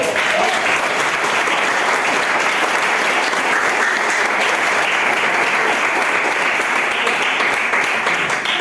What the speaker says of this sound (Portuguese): Manda uma salva de palmas para o Senhor.